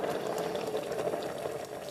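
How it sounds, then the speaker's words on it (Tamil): A steady bubbling, gurgling simmer of thick curry boiling in a pot with brinjal, continuous and close, with no voices over it. "குழம்பு நல்லா கொதிக்குது"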